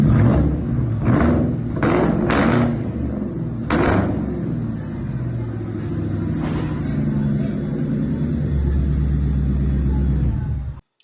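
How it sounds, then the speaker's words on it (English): A 2003 Mustang built as a Terminator Cobra clone with an SLP exhaust runs nearby, its deep exhaust rumble punctuated by several sharp revs early on before settling into a steady idle and cutting off. "So here's a little video of the car running before he started all of that."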